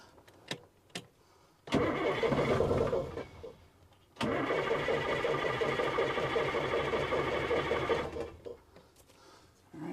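A 1977 FC33 Wanderlodge bus engine cranks with a whirring starter, catches briefly, then cranks again and rumbles to a loud, steady run up close before cutting out.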